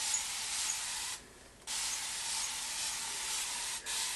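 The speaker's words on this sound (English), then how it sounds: "it's just water that I'm, you know, spraying the hair with." Water sprayed from a spray bottle onto a lace front wig's hair, a close, steady hissing mist broken by two brief pauses.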